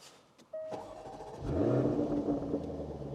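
Jaguar F-Type V8 engine cranks and fires up, a short starter whine followed by a deep rising rumble that settles into a throaty idle, close by.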